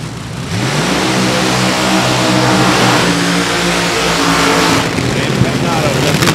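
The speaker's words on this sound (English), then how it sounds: "AA fuel altered, nitro methane wild machine, short wheelbase, high horsepower." A nitromethane-burning AA fuel altered drag car with a short wheelbase and high horsepower revs loudly and steadily, a dense, rumbling engine roar filling the whole stretch at close range, with commentary underneath.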